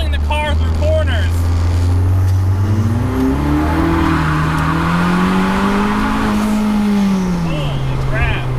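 A 2020 Vanderhall Carmel front-wheel-drive three-wheeler driven hard through corners, its engine droning steadily and rising and falling in pitch, loud and close, with a voice talking over it.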